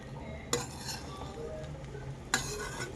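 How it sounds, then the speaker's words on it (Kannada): Spring onions are stirred into butter garlic paneer fried rice in a pan, a faint soft sizzle underneath and two sharp metallic spatula clinks against the pan about two seconds apart, quiet and close, with no voices. "ಈರುಳ್ಳಿ ಹೂವು ಲಾಸ್ಟಲ್ಲಿ ಮಿಕ್ಸ್ ಮಾಡ್ಕೋತಾ ಇದ್ದೀನಿ"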